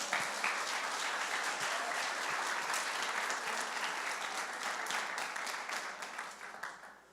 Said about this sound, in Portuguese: Dê um forte aplauso a ele nessa manhã.